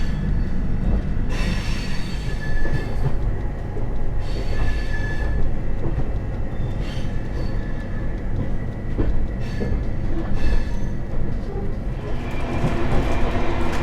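Tejas Rajdhani Express pulling out of New Delhi station: a steady loud rumble of rolling carriages with faint wheel squeal and clatter throughout, no voices.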